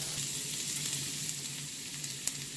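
Finely chopped garlic dropped into hot oil for a hot and sour vegetable soup, giving a soft, even, continuous sizzle with a faint ticking crackle and no voices.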